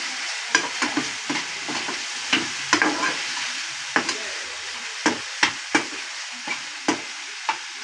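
Vegetable stuffing with pizza sauce cooks in a pan, giving a steady soft sizzle broken by sharp, regular clicks and taps of a spoon stirring against the pan, close and clear with no talking.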